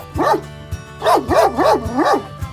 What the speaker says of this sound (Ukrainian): Вона вже досить старенька собака.